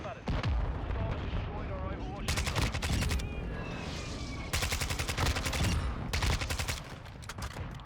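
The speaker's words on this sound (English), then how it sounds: "Oh, what was that, shotgun?" Rapid bursts of shotgun and automatic gunfire from Call of Duty Modern Warfare 2, loud and repeated in several volleys over busy game effects, with a voice talking underneath.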